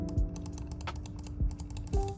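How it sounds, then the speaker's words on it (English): Clicks of an Ajazz AJ179 Pro mouse fitted with green dot switches, three sharp, fairly quiet clicks spaced about a second apart over faint background hiss. "The switches for this mouse use some Chinese brand like green shell, green dot switches"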